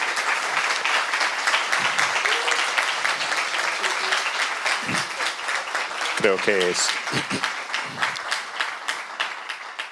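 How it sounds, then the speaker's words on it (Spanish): Sustained audience applause for a panel of speakers at a 2018 forum, dense steady clapping filling the hall throughout, with a voice briefly speaking over it. "se merecen un muy fuerte aplauso"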